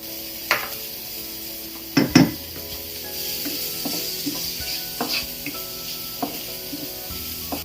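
Curry leaves sizzle and crackle as they hit hot oil in a pan with tuna, a steady fry broken by a few sharp pops and utensil clinks against the pan.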